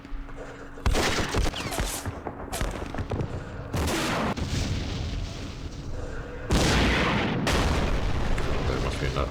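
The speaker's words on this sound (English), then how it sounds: "those machine guns with level 3 or level 2 leaders, they're brutal against my tanks" Machine gun fire crackles through a tank battle in the Campaign Series Middle East wargame, with dense bursts of shots and booms arriving in several loud waves that stop and restart.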